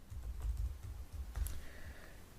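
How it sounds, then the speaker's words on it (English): A username and password typed on a computer keyboard at a login page: several quick muffled keystrokes with thumpy low taps, close and fairly quiet, and no talk. "So I'm going to type that in."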